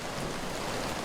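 Steady rain falls on a fern field on a hillside, a soft, even hiss heard from a distance, with no voices.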